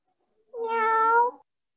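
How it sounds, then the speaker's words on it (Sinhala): A single cat meow rises clear and close against silence, drawn out for under a second with a slight fall at the end. "මියාව්"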